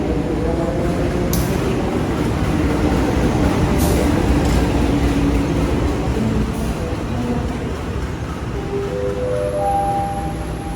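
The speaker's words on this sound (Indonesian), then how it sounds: "Baru saja tiba di jalur 6 Surabaya Gubeng, kereta Gaya Baru Malam Selatan tujuan Pasar Senen" The Gaya Baru Malam Selatan train pulls into the platform at Surabaya Gubeng station. A loud, continuous rumble fills the clip, and rising squealing tones come in toward the end.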